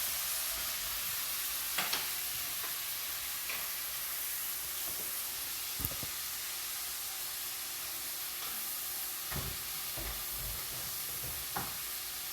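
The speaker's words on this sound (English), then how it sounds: "We're going to cook that for a couple more minutes and let the onion get tender." Onion sizzles in a pan while cooking for a dairy-free keto coconut curry chicken, with a constant close hiss of frying and occasional soft stirring taps.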